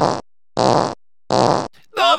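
Cartoon fart sound effect in an animated Stikbot episode: three loud, buzzing bursts with short gaps, followed by a voice speaking.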